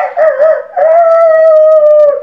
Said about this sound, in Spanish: Y un canto de gallo.